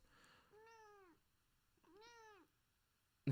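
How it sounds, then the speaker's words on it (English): A cat meows twice, drawn-out and fairly close, with a short pause between, followed by a sudden brief thump. "My cat's just saying no"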